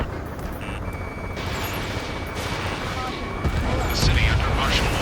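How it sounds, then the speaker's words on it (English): Ace Combat 7 game audio of a city under martial law: rumbling booms and bursts of gunfire mixed with the roar of jets, with a voice heard through the noise. "The city under martial law, gunfire and the roar of jets echoing through the streets."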